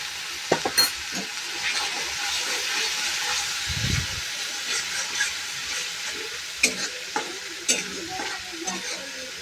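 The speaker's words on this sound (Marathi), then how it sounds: "हे हा मसाला आहे तो आपण चांगला तेल सुटेपर्यंत परतून घेतला आहे" Masala gravy with turmeric sizzles as it sautés in oil, a continuous frying hiss broken by a few scraping stirs and clinks of a spoon against the pan.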